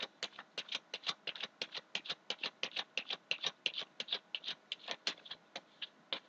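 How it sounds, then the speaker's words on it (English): Tarot cards are shuffled by hand, a quick, even run of about thirty soft crisp card taps and slides, close and quiet. "And give it another shuffle."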